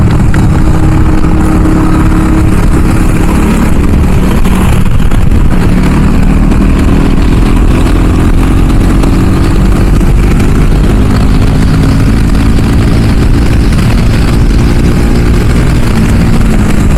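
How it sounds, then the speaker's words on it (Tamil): Modified KTM RC390 motorcycle with a BS4 exhaust, a loud, close engine note that rises and falls in pitch as it revs, continuous throughout. "ஸோ இது BS4 எக்ஸாஸ்ட்டு."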